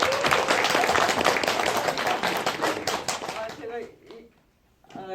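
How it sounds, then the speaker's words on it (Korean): A Korean film audience at a guest-visit screening claps loudly and steadily for an award-winning actress, dense applause that fades out near the end as a voice speaks over the tail. "박수 한번 주시죠"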